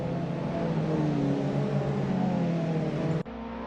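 Several Alfa Romeo race cars in a bunched pack during a championship race on a circuit, engines droning steadily at high revs before the sound drops off sharply near the end.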